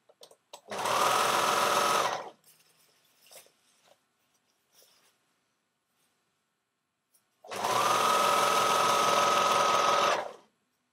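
A serger overlock sewing machine stitches a fabric seam in two loud, steady whirring runs of about one and three seconds, separated by a quiet pause with faint handling clicks.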